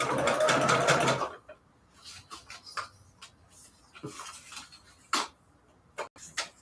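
A sewing machine runs briefly at the start, stitching a scrap paper embellishment with a fast, close whir for about a second, then stops, leaving only scattered clicks and handling noises.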